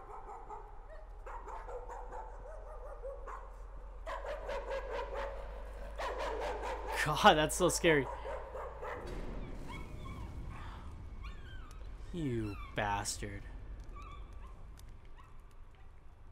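Dogs bark and whimper in the horror video game Layers of Fear, several yelps and whines coming in bursts over an eerie ambient backdrop, with a man reacting aloud between them.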